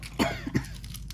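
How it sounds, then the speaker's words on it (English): A person with a cold coughs twice close to the microphone, two short rough bursts a fraction of a second apart, followed by faint breathy noise in an otherwise quiet room. "I got a cough and a headache"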